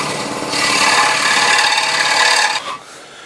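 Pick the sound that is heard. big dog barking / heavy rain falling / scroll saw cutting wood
scroll saw cutting wood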